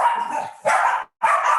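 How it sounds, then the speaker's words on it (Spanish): Small dogs yap in three sharp, close, loud barks, the last cut off abruptly. "Mis perritas no se callan."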